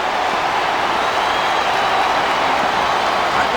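A wrestling crowd in the PS2 game WWE SmackDown vs Raw 2007, during an Undertaker vs Chris Benoit match, makes a continuous hiss of applause and crowd noise. It stays loud and even throughout, with no clear breaks.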